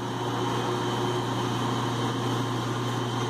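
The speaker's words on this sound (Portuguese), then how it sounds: "lógico, o carro tá ligado." A 2012 Volkswagen Gol engine idling steadily with an electrical fault, a continuous even hum with no breaks or voices.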